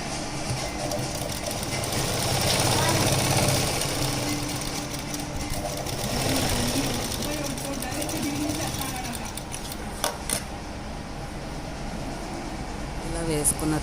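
An electric sewing machine stitches two pieces of cloth together for a dhoti, giving a continuous loud whirring drone with small rhythmic knocks while a person talks over it.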